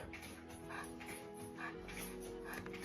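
A dog reacts excitedly with short yips and whimpers over steady background noise, fairly faint and continuous throughout.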